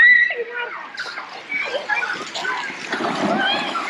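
Water splashes at the bottom of a slide at a water park in Santo Domingo, a broad splashing and sloshing wash under nearby talk and children's voices.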